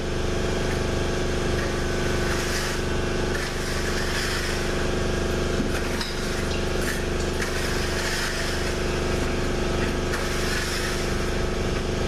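An air compressor runs in a workshop as a loud, steady mechanical drone with a constant hum and broadband rumble that holds unchanged throughout.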